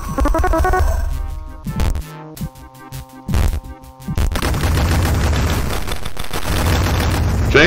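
Chain Gunner enemy's machine gun fire in the video game WolfenDoom, loud dense bursts of rapid shots with brief gaps, then a sustained continuous barrage with explosive booms, no talking.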